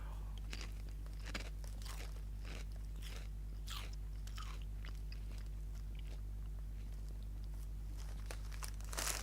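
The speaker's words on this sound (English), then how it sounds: "just as I was done chewing on that chip" Crunchy bites and chewing of spicy chicken flavored chips, close and crisp, with repeated crackling crunches and faint bag crinkling over a steady low hum, no talking.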